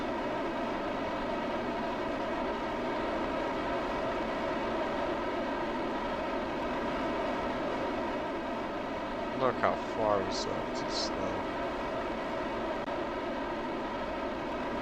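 Constant loud rocket engine roar near Minmus in a video game, with a dense, unbroken rushing rumble; a voice speaks briefly over it.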